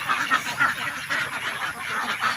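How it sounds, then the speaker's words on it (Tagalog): Domestic ducks quacking near their pen on a duck farm, a steady chorus of overlapping quacks at moderate distance with no talking. "yung napapasok na natin yung mga alagang itik natin"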